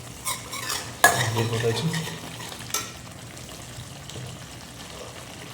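Turmeric powder being stirred into hot frying oil for an egg gravy, a close spoon scrape and stirring over a steady sizzle, with a louder clatter about a second in and a brief word spoken.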